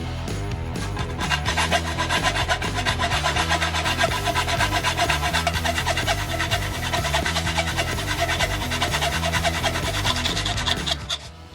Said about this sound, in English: I had no choice but to first cut the material with a hand saw and then machine it with a CNC.